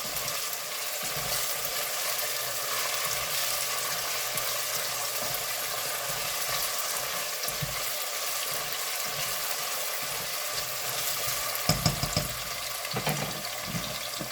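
Vegetable pulao sizzling steadily in a pan, a continuous hiss with faint bubbling and a few light knocks late on.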